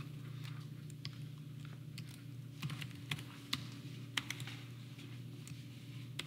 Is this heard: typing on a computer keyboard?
yes